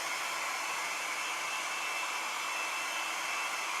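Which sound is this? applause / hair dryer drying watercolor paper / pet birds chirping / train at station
hair dryer drying watercolor paper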